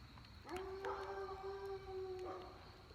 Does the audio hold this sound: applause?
no